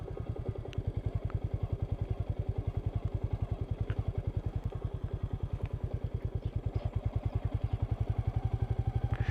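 A Royal Enfield Meteor 350 motorcycle chugs along an off-road track with a steady, rapid single-cylinder thump, loud and close, with occasional light clatter over the rough ground.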